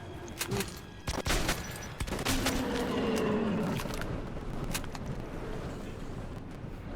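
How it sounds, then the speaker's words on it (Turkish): Gunfire in the video game Metro 2033: a few sharp, close shots spaced irregularly in the first seconds over a constant loud, noisy background, then only the steady din remains. No one speaks. "Vurdum abi iki kez vurdum"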